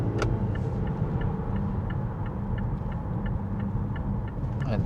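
A 2025 Mazda CX-5 Turbo Premium driving into a corner, a steady low engine and road rumble from inside the cabin with a faint regular ticking running through it.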